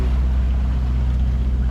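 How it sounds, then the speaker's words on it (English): A sailboat motors across the North Sea under engine power in calm, windless conditions, a steady low inboard drone with rushing water and wind noise, continuous and fairly loud. "so we had to put the engine on,"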